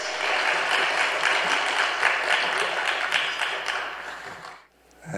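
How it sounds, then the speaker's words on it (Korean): A church congregation applauds to welcome a visiting pastor at an afternoon service, a steady, fairly loud crowd clapping that fades out near the end, followed by a brief silence. "박수로 환영해 주시기 바랍니다."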